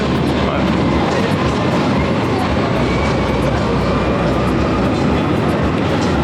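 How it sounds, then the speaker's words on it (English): A tram rumbles past at close range on a street in Istanbul, Turkey, a steady heavy rolling roar with faint rattling wheels on the rails throughout. "Try not to get hit by a tram walking down the tram lines"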